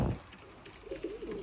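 Racing pigeons coo softly in a loft, a few low, rolling calls rising near the end over faint background noise.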